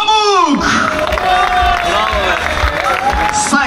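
A crowd claps and cheers for the winner at a women's cycling race podium during the Turkcell Gran Fondo Istanbul, the steady applause running under a loud announcer's voice.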